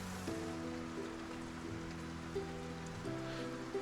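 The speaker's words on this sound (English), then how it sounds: "The rain was getting a lot worse" Steady rain falls in Project Zomboid, a soft continuous hiss under low sustained music tones, with no voices.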